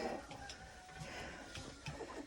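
A broody hen in a coop with fresh shavings gives a few soft, low clucks, faint and close, with light rustling and no clear speech.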